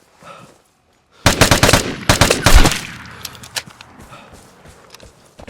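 Bursts of L86 rifle fire in the video game Vigor, loud and rapid, cracking out over about a second and a half, then trailing into sparser, quieter shots and clatter after a brief quiet thump.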